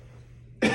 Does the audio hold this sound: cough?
yes